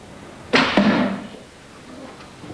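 Arrow loosed from a powerful bow punches through one wooden door and into the next, a sharp loud impact followed by a second thud and brief rattling decay, then quiet room tone.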